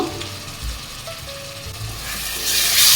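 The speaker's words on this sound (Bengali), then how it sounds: "খুব ভালোভাবে মশলাটা আমি কষিয়ে নেব" Spice masala of ginger-garlic paste, green chilies, turmeric and Kashmiri chili powder sizzling and being stirred in a pan for chicken curry, a steady close frying hiss with occasional scraping, growing louder at the end.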